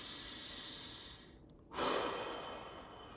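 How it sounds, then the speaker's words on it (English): Slow deep breathing during a wellness exercise: a long soft breath fades to near silence, then a loud airy exhale or sigh rushes in close to the mic and trails off gradually. "Let's do some breathing."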